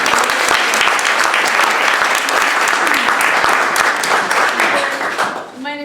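An audience at an International Women's Day event breaks into loud, sustained applause for the next speaker, dense clapping that fills the room and starts to thin out near the end.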